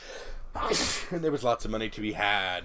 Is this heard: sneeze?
yes